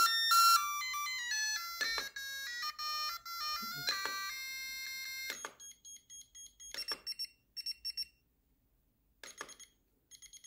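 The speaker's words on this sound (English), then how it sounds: "This is the sound that you need to choose for your alarm clock." A LIVARNOLUX LED desk lamp clock plays its alarm tones, a bright electronic melody of ringing beeps followed by shorter repeated chimes with brief pauses, loud and close in a quiet room.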